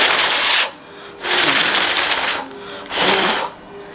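Three breathy bursts of blowing into a rose to open its petals, close and loud, each lasting about half a second with short gaps between.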